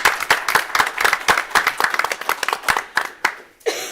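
Clapping at a city schools board meeting honoring a staff retirement: a small group's rhythmic, fairly close claps, steady for about three seconds then thinning out before a voice comes in.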